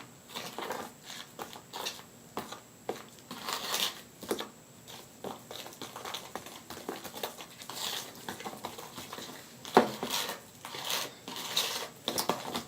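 Hair bleach stirred in a bowl for a weave, a quiet, irregular run of scraping and tapping as the mixture is worked, steady throughout with occasional sharper clinks.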